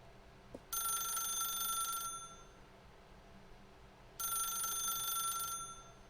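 Telephone ringing in The Stanley Parable: Ultra Deluxe, two long bell-like electronic rings separated by a pause, clear and fairly close over a quiet background, with no speech.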